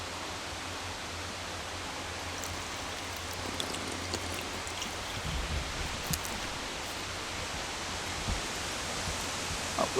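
Steady broadband rush of tap water trickling and splashing through rock in an indoor rainforest, continuous and close, with no voices.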